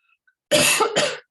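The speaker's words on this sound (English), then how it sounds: "I don't know why I'm coughing so much." A single harsh cough, close and loud, breaking into two quick bursts with silence around it.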